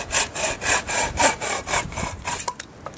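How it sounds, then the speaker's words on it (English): A hand saw cuts through hardwood firewood with long, full-length strokes, a steady rasping rhythm of about two strokes per second, close and fairly loud, slowing and thinning out toward the end. "what I like about this saw is you can use the full length of the throw, and it goes through a hardwood very, very quickly."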